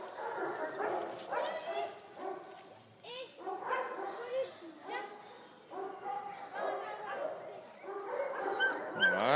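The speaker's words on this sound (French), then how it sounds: "les chiots malinois de Flora et Kaiser qui ont 4 semaines." Four-week-old Belgian Malinois puppies yipping, whimpering and squealing close by, a busy overlapping chorus of high thin cries that rises in intensity toward the end.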